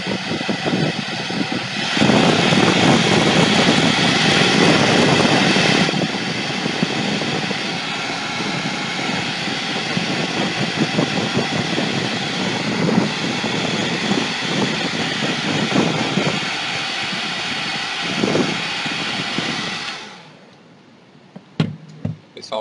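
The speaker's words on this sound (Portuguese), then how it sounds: "Sempre que vocês secarem com jato quente, dá um jato de ar frio" A hot air tool blows a loud, steady roar while drying paint on a dog-shaped pot, running continuously before cutting off abruptly near the end, followed by a few faint handling clicks.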